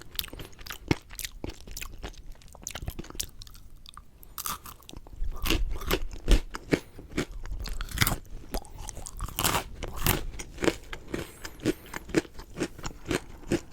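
Loud, close crunching and chewing of hard, brittle pretzel candy, with rapid irregular bites continuing steadily throughout.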